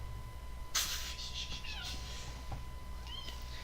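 A cat gives a sharp, loud meow followed by a couple of softer, shorter mews over a low background hum.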